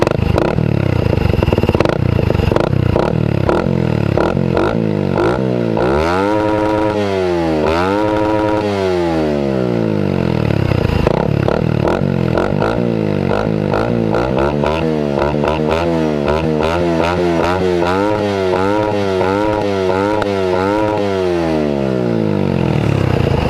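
Suzuki Raider 150 Fi motorcycle with a VMAX Racing muffler revved repeatedly, the engine note sweeping up and down in rising and falling surges, loud and close throughout.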